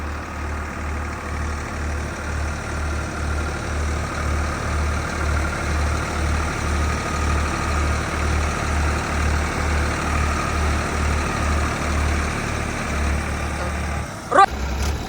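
Two tractors fitted with a super seeder or rotavator running in first gear, a steady low droning engine rumble with a regular pulsing throb, close and continuous, ending in a brief louder knock.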